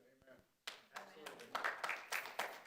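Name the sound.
audience clapping at a public meeting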